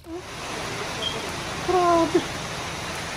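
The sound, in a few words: rain falling outdoors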